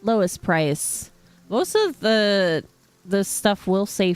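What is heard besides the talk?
None of the usual background noises is heard.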